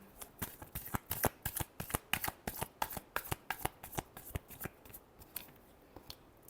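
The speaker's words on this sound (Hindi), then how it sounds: "Last shuffle." Tarot cards riffle and flick in a quick, close run of crisp snaps, evenly paced for several seconds before slowing at the end, with no voices.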